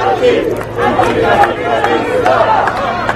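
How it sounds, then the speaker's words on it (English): G20 summit protesters in a German street screaming anti-capitalist slogans, a loud, dense crowd of shouting voices with rising yells and steady chatter, close by and continuous. "They're screaming anti-capitalista, so against capitalism."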